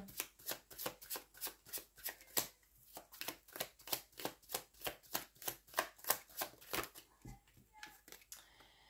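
Playing cards are shuffled repeatedly in a quick rhythmic series of riffling bursts, close and fairly quiet, about two per second, with no talk over them.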